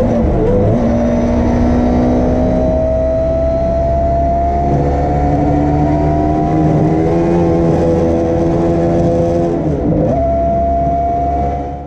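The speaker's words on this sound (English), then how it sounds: "They're trying to get this V10 Judd Formula One engine sorted out here on this machine." A 3-litre V10 Judd Formula One engine in a New Zealand streamliner at Bonneville, running loud and close with a sustained high-pitched howl, climbing revs, a brief dip near the end and no talking.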